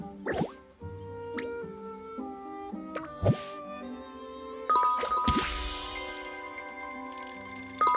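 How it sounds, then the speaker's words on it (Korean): Tool repair in the video game Heartopia plays as a bright run of chiming dings and sparkly jingles with soft plops, ending in a louder shimmering flourish, steady game music underneath. "이렇게 해서 도구가 수리가 되는 거예요"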